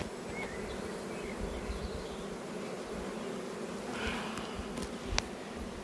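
Honeybees buzzing around hive frames, a dense continuous drone of many insects close by, with a few faint knocks and clicks over the swarm.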